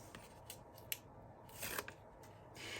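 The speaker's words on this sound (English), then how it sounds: "So we'll take off the tape backing." Backing being peeled off dollar-store double-sided tape during a journal craft session, heard as several brief, faint crackling rips close to the microphone, with no talking.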